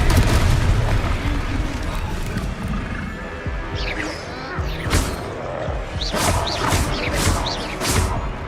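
Confringo spell blasts in Hogwarts Legacy, booming explosions with crackling debris and swishing magical bursts repeating over several seconds amid loud battle noise and game voices.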